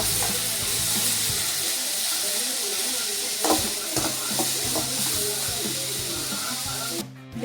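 Beans and carrots frying in oil give a steady broadband sizzle with occasional stirring clicks throughout, ending in a brief louder burst.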